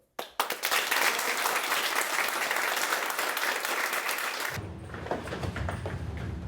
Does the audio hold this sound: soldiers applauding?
yes